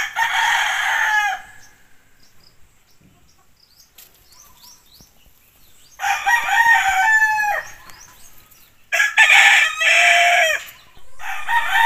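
Backyard gamefowl kept by a small-scale breeder: a rooster crows loudly in three separate bursts, with clucking hens in between and long quiet gaps of near silence.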